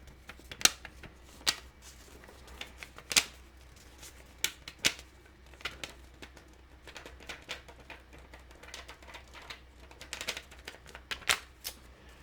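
Crisp paper rustles and soft crinkles from a banknote in a South Asian currency collection, arriving as scattered sharp handling clicks and swishes close to the mic, with no talking.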